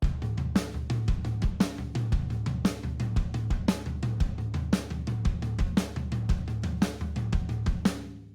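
A drum kit plays a steady bass drum pattern with a tom part over it, punchy low thumps and sharp hits repeating in an even rhythm, close and clear with no talking.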